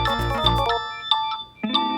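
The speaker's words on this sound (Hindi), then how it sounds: "बड़ा बज रहा है मेरा फोन।" A mobile phone ringtone plays in a Hindi children's fantasy show, a short bright melodic tune of chiming notes, fairly close and clear, pausing briefly before resuming.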